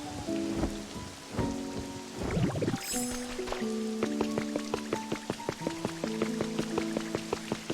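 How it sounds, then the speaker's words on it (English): Rain in the video game Pokémon Pokopia, steady drops pattering on surfaces with a low rumble, layered over soft chiming melodic tones from the game. "It's very nice when it's raining."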